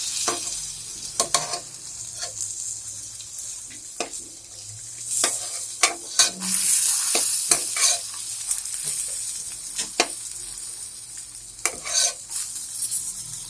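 Mangodi lentil dumplings frying in a pan with a spiced tempering, sizzling steadily up close while a spoon stirs and scrapes the pan in irregular bursts, with no talking.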